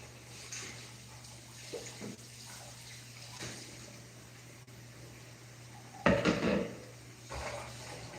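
Tap water splashes into a kitchen sink as fresh tuna is rinsed, a loud burst of running water for about a second, with softer clinks and handling sounds from the sink area before and after.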